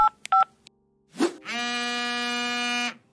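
A few short touch-tone beeps from a phone keypad, then a long, steady electronic ringing tone lasting over a second.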